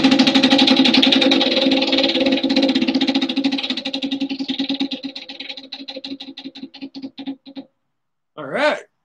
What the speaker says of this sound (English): let's give you a spin of the wheel